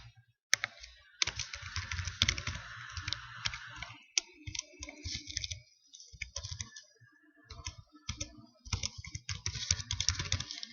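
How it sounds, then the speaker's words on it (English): Fast, irregular typing on a computer keyboard, close up, with bursts of rapid key clicks broken by short pauses and occasional sharper taps. "I'm typing this as it happens, so that I have it for records."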